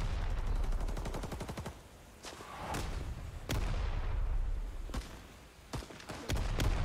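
Automatic weapon fire from a Rising Storm 2: Vietnam gun crackles in rapid bursts, a fast stream of shots at first, then separate loud reports and short volleys over a steady battlefield roar.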